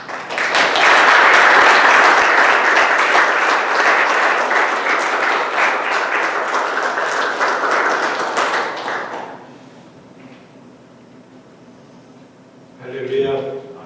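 Warm applause from a church congregation welcoming a guest preacher to the pulpit, loud and sustained for about nine seconds before fading to near silence, then a brief voice at the end.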